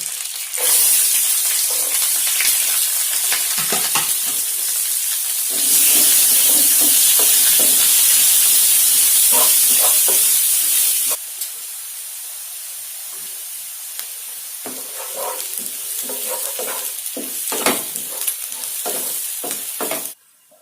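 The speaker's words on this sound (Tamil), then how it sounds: "வெங்காயம் போட்டுக்கலாம், வெட்டி வச்ச வெங்காயம்" Chopped onions hit hot oil with dried chillies and curry leaves, bursting into a loud, bright hiss that settles into a steady sizzle broken by repeated scrapes and clinks of a stirring spoon.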